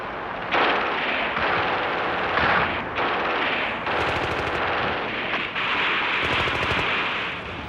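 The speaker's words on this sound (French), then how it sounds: "Parfois, une mitrailleuse ennemie vient interrompre la progression." Enemy machine gun fire from archival footage of the liberation war advance: long, loud, continuous bursts of rapid shots with brief breaks between them, harsh and dense, with no speech over it.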